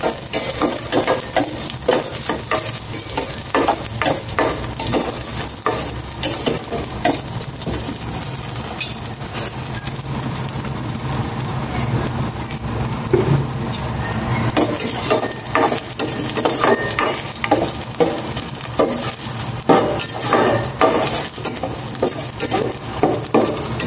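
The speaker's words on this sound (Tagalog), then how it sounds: "Gisa ko na po yung bawang." Garlic sautés in hot cooking oil in a pan, a steady close sizzle and crackle running throughout with frequent stirring scrapes and occasional utensil clinks.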